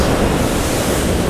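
Ocean waves on a surf beach along the Boso Peninsula in Chiba, Japan, a dense, steady wash of surf with some wind rumble, loud and unbroken, with no voices.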